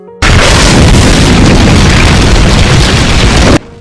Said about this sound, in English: The explosion toppled the rest of the tower before they had any chance to react